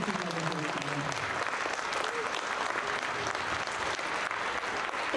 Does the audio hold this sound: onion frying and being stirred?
no